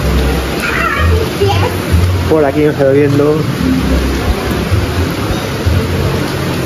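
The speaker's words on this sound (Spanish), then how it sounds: "Mira cómo llueve." Steady rain with a low rumble of thunder during a storm at Lake Ohrid, North Macedonia, pouring continuously and close by while people talk over it throughout.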